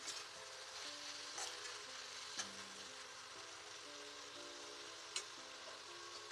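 Amaranth leaves (thotakura) sprinkled with chilli powder cook down in a pan for an Andhra-style fry, a constant soft sizzle and crackle close by, with faint tonal music underneath.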